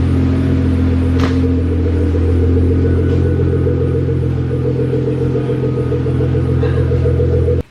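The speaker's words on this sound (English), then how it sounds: "Car is up, back and running." A repaired Nissan GT-R's engine idles close by in a workshop, a loud steady low rumble with a continuous hum, ending abruptly when it cuts off.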